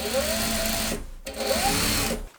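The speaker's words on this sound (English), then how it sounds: "we're going to stitch as close as we can to this folded edge" A sewing machine stitches close to a folded fabric edge on a jumpsuit top, a loud continuous whirring run that pauses briefly, starts again, and stops at the end, heard up close with no talk.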